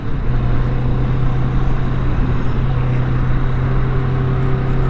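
Engine of a 2023 Kawasaki Vulcan S 650 Cafe motorcycle under acceleration, a loud, steady low drone with a constant hum and rising wind rush, heard close up for several seconds with no talking.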